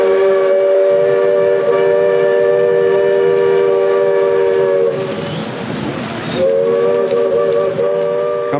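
A train on an Andean railway in Ecuador rumbles past with a loud, sustained horn blaring, briefly breaking off before sounding again over the rolling clatter.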